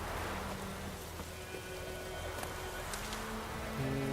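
Rain pours in The Witcher 3: Wild Hunt as a constant wash of patter, even and unbroken for a few seconds, with a low game backdrop and no voices.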